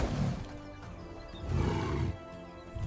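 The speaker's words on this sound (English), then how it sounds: "A mature male lion lets out a growl, backing away as the herd advances." A mature male lion growls on the African savanna, with low rumbling bursts at the start and a longer, louder growl in the middle, trailing off into softer rumbles.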